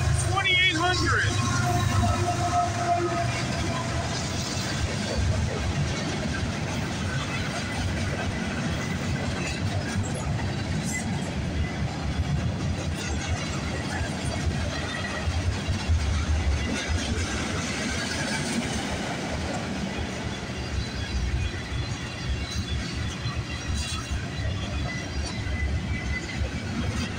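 A long CN freight train rumbles past a GO station with a steady roar and rhythmic wheel clatter, close and loud, while people talk faintly in the background.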